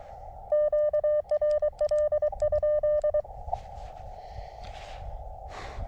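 Crisp single-pitch Morse code CW tones from a radio key, sent in quick bursts of dots and dashes, fairly loud and close, followed by faint background hiss.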